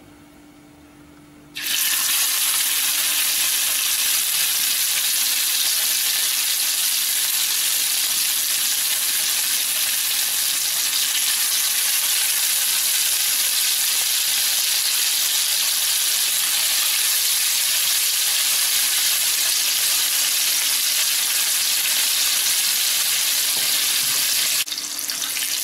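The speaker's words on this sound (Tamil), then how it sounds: "நம்ம வறுக்கலாம்." Fish pieces frying in hot oil in a pan, a loud, steady, close hiss and crackle that begins abruptly and holds for over twenty seconds before cutting off, with no talk.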